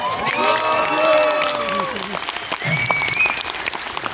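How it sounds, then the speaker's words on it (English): Audience applause at a Comic Con panel in Liverpool with Transformers voice actors, sustained clapping from a large crowd with some cheering, while voices talk and laugh over it near the start. "Round of applause."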